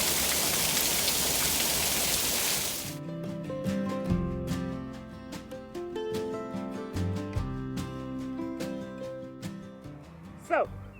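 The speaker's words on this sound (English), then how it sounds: "We are literally in the middle of a monsoon." Heavy monsoon rain pours down during a shed foundation build, a dense loud hiss for about three seconds that cuts off abruptly, followed by dripping and spattering of water and a brief clatter near the end.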